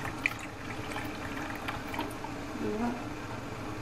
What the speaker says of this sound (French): Maintenant je vais rajouter mon lait